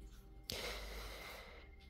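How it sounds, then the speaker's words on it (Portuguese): An elderly dog nearby lets out a single sudden snorting cough, followed by a breathy, wheezy exhale, all fairly faint in a quiet room. "se estiverem ouvindo uma tosse, é o doguinho"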